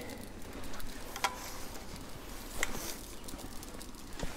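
Pizza cooking on fresh dough inside an Ooni Koda pizza oven, giving a faint, steady hiss with scattered soft crackles and pops.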